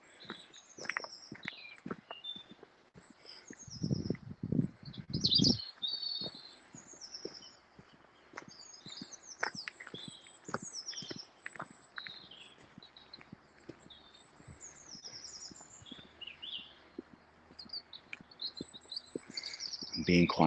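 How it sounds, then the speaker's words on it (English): Spring birdsong twitters faintly outdoors, thin high chirps running throughout over soft crunching footsteps and a brief louder rustle of movement. "I'm being quiet so you can listen to the bird song."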